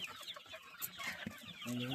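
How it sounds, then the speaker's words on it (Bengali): Chickens on a golden-breed poultry farm cluck and chatter while feeding, a busy overlapping mix of close and nearby calls throughout, with a louder squawk near the end. "অসাধারণ খাওয়াই ব্যস্ত সব মুরগিগুলো।"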